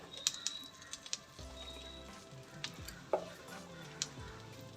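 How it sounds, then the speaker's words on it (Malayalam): Flour (maida) is stirred into melted butter in a pan over low flame, with soft intermittent scraping and light taps of the spoon against the pan under a faint sizzle. "ഇനി ഇതും ബട്ടറും കൂടെ നല്ല പോലെ മിക്സ് ചെയ്ത് കൊടുക്കണം"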